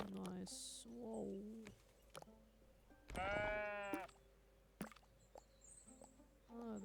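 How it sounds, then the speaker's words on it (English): A sheep bleats several times, loud wavering calls close by, with a long strong bleat in the middle and shorter ones around it, while a person speaks quietly in between. "the sheep is very verbal today"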